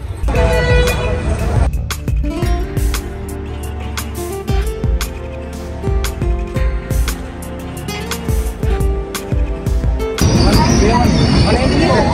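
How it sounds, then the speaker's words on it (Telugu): An express train on the Warangal to Vizag route clatters with rhythmic wheel knocks, metallic squeals and a horn toot, loud and close, with voices talking at times over the steady rumble. "ఫ్రెండ్స్ ట్రైన్ అయితే ఎక్కినాం"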